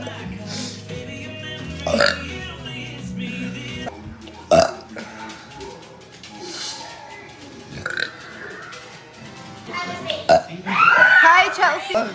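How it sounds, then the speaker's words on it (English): Loud, repeated burps from a woman, several separate belches spread across the stretch, with talking and reactions between them. "Burps."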